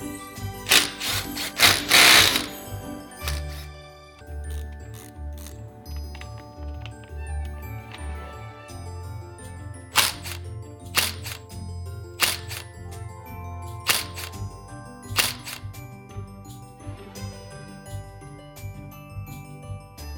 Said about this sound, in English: We're gonna go ahead and remove the foot peg mount, the gear shifter arm, the derby cover, and the primary cover.